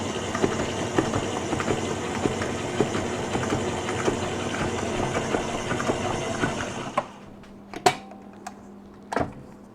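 An electric mixer beats cookie dough in a bowl at medium speed, a steady close whirring hum that cuts off near the end, followed by a few sharp knocks against the bowl.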